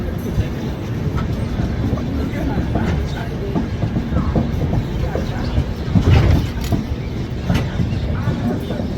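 The Seemanchal Express, running from Jogbani to Anand Vihar, rolls along the rails with a loud, continuous rumble and rattling clatter heard from inside the train, swelling briefly near the end.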